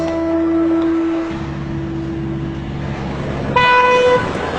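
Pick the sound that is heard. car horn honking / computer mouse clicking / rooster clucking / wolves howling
car horn honking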